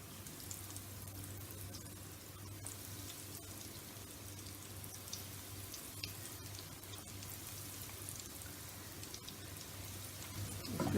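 Potato lollipops deep frying in medium-hot oil give a steady, dense sizzle with fine crackling throughout, close and continuous, with no voices.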